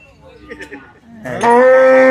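A cow at a cattle market lets out a loud, drawn-out moo nearby, preceded by faint background chatter.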